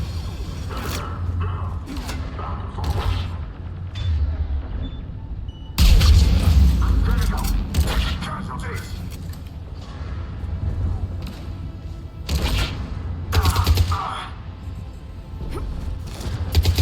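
Heavy booming cannon blasts and thuds roll over a dense, rumbling Mass Effect 3 game soundscape, with mechanical clanks and a few louder impacts.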